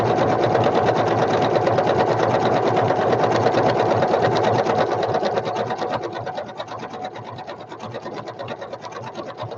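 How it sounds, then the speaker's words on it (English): A sewing machine steadily stitches fabric for a flower basket, a fast continuous mechanical chatter that runs loud and even, then eases slightly softer toward the end. "I'm going to take this one out, and then I'm going to sew this one across"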